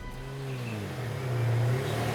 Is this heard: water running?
no